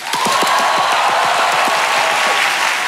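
Loud, dense applause from a studio audience welcoming the challenger on a late-night talk show; steady clapping fills the whole stretch with faint whoops mixed in.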